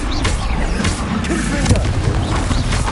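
Confringo fire-blast spells go off in the video game Hogwarts Legacy, dense booming bursts layered with combat effects and other spell sounds, loud and continuous throughout.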